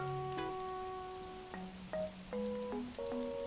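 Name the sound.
rain in the video game Animal Crossing New Horizons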